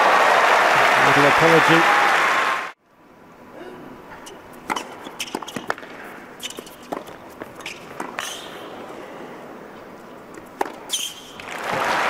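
Tennis crowd at Basel cheering and applauding during a Federer–Djokovic match, with a loud dense burst of applause that cuts off abruptly, then a quieter arena with scattered claps, knocks and murmurs.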